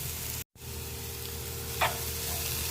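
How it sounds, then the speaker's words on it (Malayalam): Chopped onion with salt sautéing in hot oil, a steady close sizzle broken by one brief dropout and a single soft scrape of a spoon. "സവാള വഴറ്റിയെടുക്കണം."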